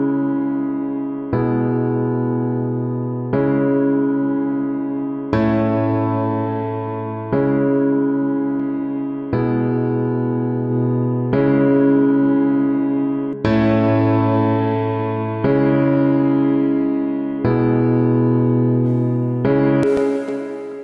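An Oxidate reverb tank plugin under heavy compression adds reverb to a series of sustained chords about every two seconds. The loud reverb tail swells and pumps after each new chord, and no one speaks.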